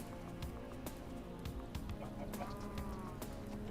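Chickens in a video game cluck softly in short, scattered bursts over a steady hum of game ambience.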